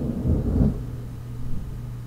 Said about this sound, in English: Oh my god, that is thunder.